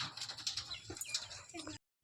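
Close guinea fowl calls, a quick run of harsh squawks and chirps over a faint voice, cutting off abruptly.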